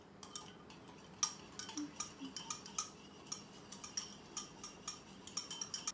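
A spoon whisks dalgona coffee by hand in a cup without a mixer, giving quick, faint, irregular clinks and ticks of metal on the rim, alone and with no talk.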